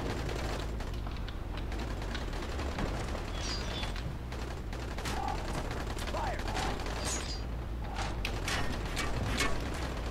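In the video game Dying Light, gunfire crackles in quick bursts and scattered single shots at moderate distance, over a busy background of in-game sound.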